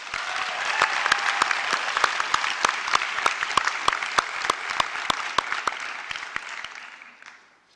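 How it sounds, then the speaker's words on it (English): Audience at a health and education graduation ceremony in Brisbane applauds award winners, dense steady clapping with a few sharp louder claps standing out, gradually fading away over the last second or two. "Please, another round of applause for our award winners."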